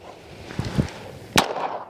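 An OA Defense 2311 Pro Elite pistol firing, with a couple of muffled reports followed by one sharper, louder shot, heard from close range outdoors.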